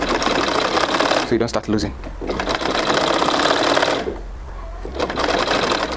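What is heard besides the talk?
sewing machine stitching trouser pocket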